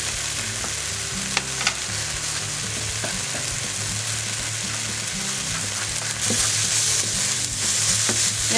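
Saffron and mushrooms toasting in a pan for a vegan port mushroom pâté, a dense steady sizzle with occasional stirring clicks, swelling slightly louder toward the end.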